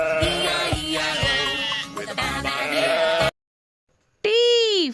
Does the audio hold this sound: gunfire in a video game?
no